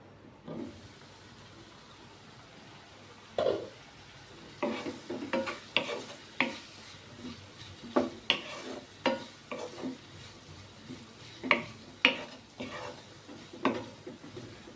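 Covered vegetables cooking over a medium gas flame, a faint low simmering hiss broken by a series of irregular soft clicks and knocks, near and sparse, with no voices.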